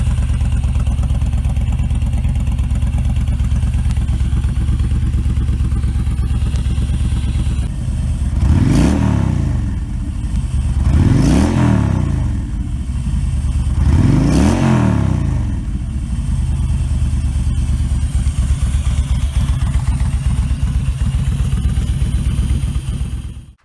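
A Yamaha XVS1300C Stryker V-twin cruiser, liquid-cooled with four valves per cylinder, blips its throttle three times at even intervals over a loud, steady, close idle.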